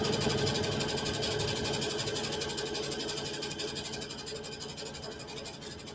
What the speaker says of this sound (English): I'm just going to sew a straight line.